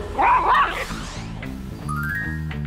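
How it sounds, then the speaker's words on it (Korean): A small dog barks and yips sharply up close, a quick burst of high-pitched barks followed by softer whimpering yips, with no talking over it. "애들이 막 짖을 수 있거든요"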